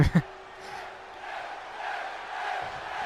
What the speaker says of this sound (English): The crowd going behind Edge here.